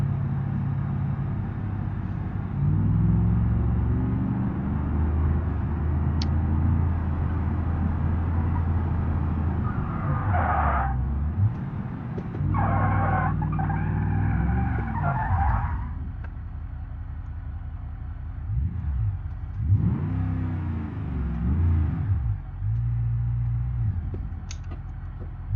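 Engine of a 1977 Pontiac Firebird Trans Am muscle car in the BeamNG.drive driving game, a steady low rumble that rises and falls in pitch as it revs and shifts, continuous and close with no talk.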